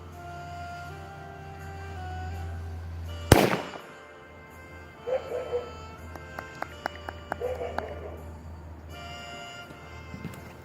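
An experimental firework goes off outdoors in a single loud, sharp blast, followed by a sequence of quieter crackles and pops, with voices talking faintly in the background.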